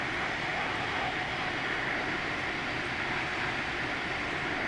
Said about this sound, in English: Man, I love the sound of this airplane.